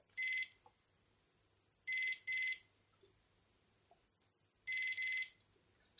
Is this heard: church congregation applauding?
no